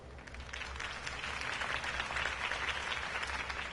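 A crowd applauds steadily after a campaign speech, a dense wash of clapping held at an even level for several seconds.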